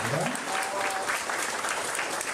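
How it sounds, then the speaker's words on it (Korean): Audience applause welcoming guests at a 2013 Gyeongbuk disabled sports policy development workshop, a full, continuous round of clapping from a seated crowd, steady and fairly loud throughout with faint voices beneath. "따뜻한 박수 환영해 주시면 고맙습니다."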